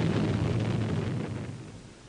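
A British nuclear bomb explosion from declassified archive film: a deep, loud rumbling roar already under way that slowly fades over about two seconds.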